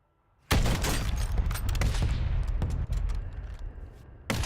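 Gunfire in the Warzone battle royale game bursts in suddenly, a dense rattling volley of rapid shots and booms that holds loud for several seconds before thinning out, with one last crack at the end.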